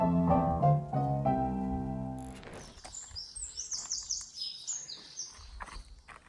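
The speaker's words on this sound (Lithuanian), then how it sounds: "Kiek daug paukščių?" Birds in an abandoned village deserted 60 years ago, chirping and tweeting in quick, high, overlapping calls at moderate distance after a few seconds of sustained tonal sound.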